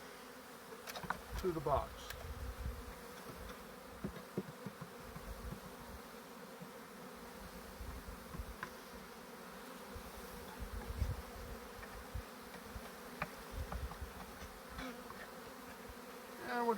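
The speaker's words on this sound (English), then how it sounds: "And then we're going to shake them in" Honey bees are shaken into a Lambrecht hexagonal deep hive box, producing a dense, close swarm buzz with louder bursts as they tumble in, while someone speaks briefly.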